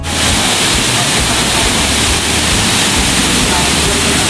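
A falls in Bagac, Bataan, roaring as a loud, dense, continuous rush of water nearby, with a voice faintly present under the noise.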